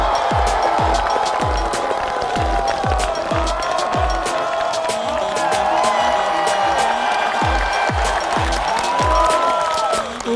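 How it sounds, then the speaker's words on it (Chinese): A studio audience applauds and cheers to welcome a stand-up comedian onto a comedy show stage, the clapping filling the room with bright crowd noise and scattered thumps and voices mixed in throughout. "让我们一起热烈掌声欢迎他"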